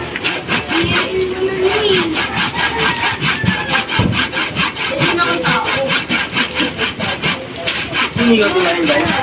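Steady rhythmic rasping of a hand saw cutting wood while repairing a steel chair, strokes back and forth continuously and close, with occasional voices in the background.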